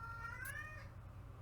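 A pet cat named Casper meows close by in a single drawn-out, wavering cry, with steady low room rumble beneath and no talking.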